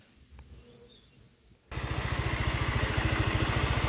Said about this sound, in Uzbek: skuterimizni zavod etib qoldik